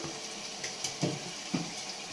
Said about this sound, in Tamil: இப்போ 2 கிண்ணம் தண்ணி ஊற்ற போகிறேன்.